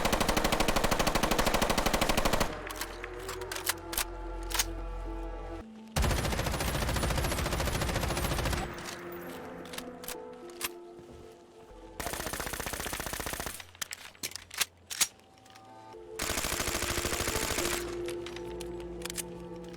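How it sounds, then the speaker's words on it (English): Bursts of modded Mark 18 rifle and Glock 19X pistol fire in Fallout 4, loud rapid automatic volleys alternating with sharp single shots and brief pauses, with no talk. "change up the firing sounds for the Mark 18 and the Glock 19X"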